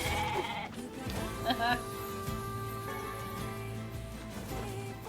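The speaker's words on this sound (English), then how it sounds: "Look at that sheep hiding behind there" Sheep bleating in the video game NieR:Replicant, a few short bleats over a steady game music and ambient bed, with a voice talking over them.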